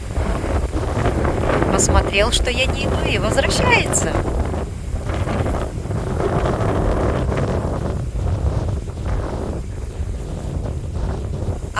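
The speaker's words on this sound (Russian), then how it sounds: "Наверное, из-за ветра." Wind gusts outdoors in Odesa region, buffeting a microphone with steady low rumbling roar throughout, while someone talks over it.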